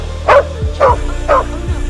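A small dog barks three times at an even pace, sharp and close, with low rumbling noise underneath.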